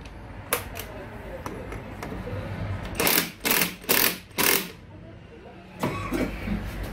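A nut is tightened with a 22mm socket on the CVT of a Honda Benly 110 scooter: four short, loud whirring bursts in quick succession, then another after a pause, over a quiet workshop background.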